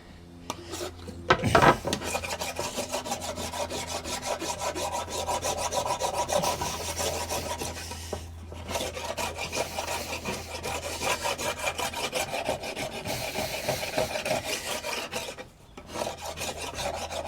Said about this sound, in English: Cheese grater sanding is some outback engineering.